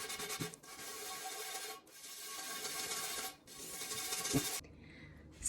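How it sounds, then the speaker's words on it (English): Hard scrubbing on an old cast iron pan being restored, loud harsh rasping strokes in long back-and-forth passes with short pauses between, close up and without speech. "So that took quite a lot of elbow grease. I really had to scrub it."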